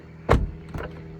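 A used car door with repaired body damage unlatches with a sharp click and thunk, followed by a softer second clunk as it swings open; close and brief.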